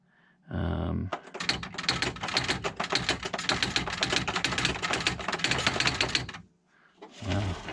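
An old manual typewriter types in a fast, continuous run of sharp clacking keystrokes lasting several seconds, heard up close, with a brief low thump just before and after the run.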